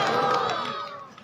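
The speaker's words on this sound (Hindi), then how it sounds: "जोरदार तालियों से स्वागत।" Crowd at the Asoji fair gathering for Jasnath ji cheering and clapping loudly, a dense burst of voices and applause that gradually fades toward the end.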